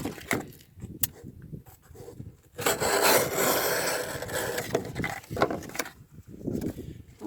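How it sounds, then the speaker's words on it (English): A Civivi Lazar folding knife with a flat-ground 10Cr15CoMoV steel blade slicing through material, giving short scraping rubs and then a longer continuous rasping cut in the middle, close up with no speech. "Let's do some slicing."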